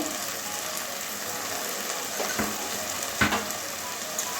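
Kalmi greens fry with turmeric and salt in a pan tempered with nigella seeds, giving a steady close sizzle throughout with a few faint clicks from a utensil.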